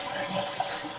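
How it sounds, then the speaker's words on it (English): A toilet flushes as its tank is drained, a steady close rush of running water filling the brief moment without talk. "So just flush out all the water that's in there."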